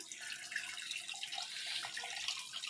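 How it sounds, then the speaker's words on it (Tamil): Tamarind water stirred and poured for a fish curry, a steady watery trickle and splash like a running tap, close and continuous without talk. "இனி புளியை கரைச்சி ஊற்றிக்கலாம்"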